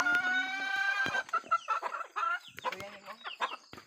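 Close-by chickens cluck and squawk in quick, overlapping bursts, with a drawn-out crowing call at the start and scattered clucks trailing off.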